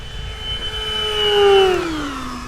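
An FMS Maule 1500mm RC bush plane on a 14.6-volt electric setup makes a fast low pass at top speed, its whining motor rising loud as it nears, then dropping in pitch as it passes and fades.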